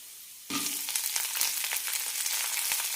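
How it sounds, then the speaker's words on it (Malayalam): Sliced onions sizzle in hot oil in a pan for capsicum chutney, added after lentils were fried. The frying starts abruptly with a loud hiss and keeps up a steady crackling sizzle throughout, with no talking. "ഇനി ഇതിലേക്ക് സവാള ഇടാം"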